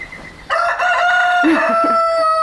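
A rooster crows loudly and close by, one long drawn-out cock-a-doodle-doo with a few soft clucks underneath.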